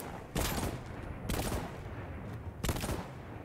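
Mines blow up in the Voidtrain video game, with three loud, sharp explosive bursts spaced about a second apart, each trailing into rumbling noise.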